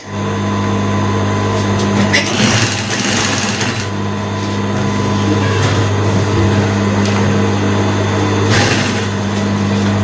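A sewing machine runs steadily while stitching the side seam of an iro and buba outfit, a close, constant mechanical hum with a few brief clattering surges and no talk.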